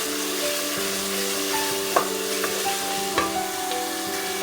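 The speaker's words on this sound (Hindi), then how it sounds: "बहुत ज़बरदस्त सी इस मसाले की हम भुनाई कर रहे हैं" Garlic masala roasting in a pan for a saag dish, a soft steady sizzle under a musical background, with a couple of sharp spoon taps against the pan, fairly quiet and close.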